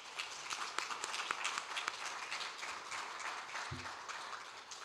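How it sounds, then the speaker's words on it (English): An audience at a high school service recognition ceremony gives another round of applause, heard faint and distant as a scattered patter of claps with a soft knock near the end. "Let's give them another round of applause"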